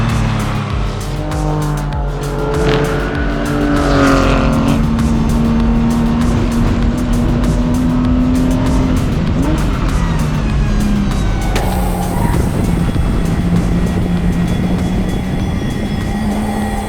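Porsche Sprint Challenge race cars howl past on a sunny day at the Anglesey circuit, a loud, continuous engine roar with rising and falling pitch as cars pass close, with no talk.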